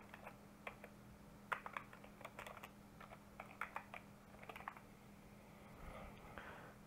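Keywords are typed on a computer keyboard in quiet bursts of light key clicks, irregular and close, over a faint steady electrical hum.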